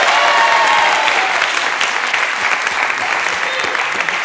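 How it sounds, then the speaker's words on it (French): A studio audience on a French television game show applauds a contestant, loud and continuous clapping close up that holds steady throughout with no speech over it. "On applaudit Christine, s'il vous plaît"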